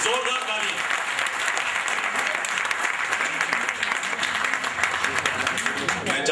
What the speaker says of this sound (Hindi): नामवर सिंह जी के लिए जोरदार तालियां।